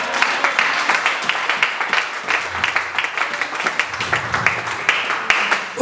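A church congregation at a conference bursts into dense, loud applause, rapid overlapping claps sustained throughout, with faint voices mixed in.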